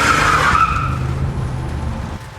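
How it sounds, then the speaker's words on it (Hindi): A car's brakes screech as it stops suddenly, one loud, close tire squeal that trails off over about two seconds. "उसकी गाड़ी एक जोरों की ब्रेक की आवाज़ से रुकी"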